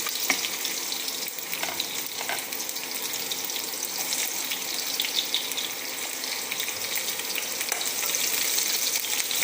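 Onion frying in a pan for cauliflower kurma, a steady close sizzle with occasional stirring scrapes, continuous and fairly loud.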